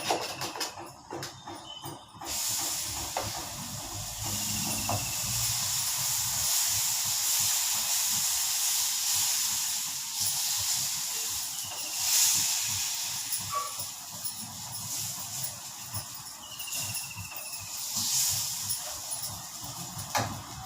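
Dosa batter cooks on a hot pan with a steady, fairly soft hiss of steam and sizzle, close by, with faint occasional clicks and scrapes.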